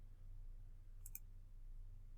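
A computer mouse right-click while working in OrCAD Capture schematic software, a quiet pair of quick clicks against a low steady hum, no talking.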